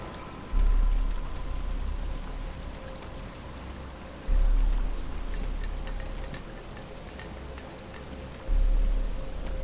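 Steady rain in the video game Batman: Arkham Asylum, a continuous moderate hiss of falling water with brief louder surges, heard alone without speech.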